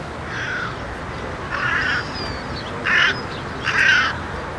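Carrion crows caw in the Jardin des Plantes in Paris, four harsh calls spaced about a second apart over a soft outdoor background hum.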